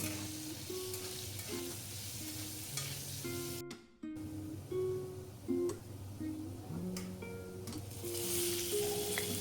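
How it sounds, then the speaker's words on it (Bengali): Diced potatoes frying in mustard oil with salt and turmeric give a steady, close sizzle with occasional stirring clatter, a brief near-silent dip partway through, and the crackle building louder toward the end. "সেটাকে আমি নুন আর হলুদ দিয়ে ভালো করে একটু ভেজে নেব"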